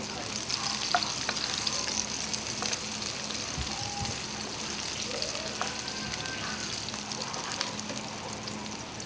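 Garlic and onion frying in a pan for a vegetarian kare-kare, a continuous close sizzle with occasional stirring scrapes and clinks across the whole stretch, no talking.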